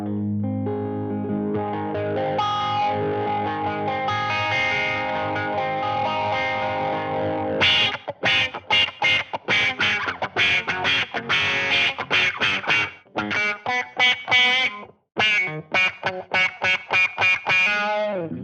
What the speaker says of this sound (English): Anything with an envelope control is a lot of fun and also very annoying to your bandmates.